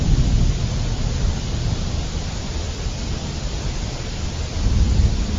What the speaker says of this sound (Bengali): এই রে, জোরে বৃষ্টি শুরু হয়ে গেল যে